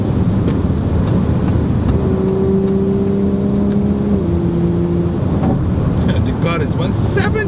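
Audi RS5 engine pulling hard at high speed, a steady loud drone with a rising tonal whine shifting pitch midway, heard from inside the moving car amid road noise.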